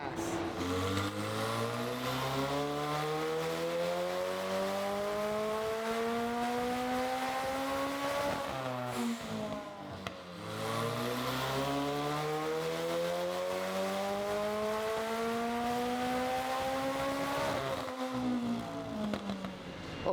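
A loud methanol-fueled race car engine on a dyno roars as it revs up through the gears, drops briefly, then screams up through another long acceleration.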